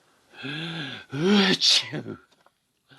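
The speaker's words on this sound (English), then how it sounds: "sound of the sneeze is very common indeed in Coldland" A cartoonish sneeze: a drawn-out rising inhale followed by a loud explosive burst, one sneeze alone and close, with a short word spoken just after.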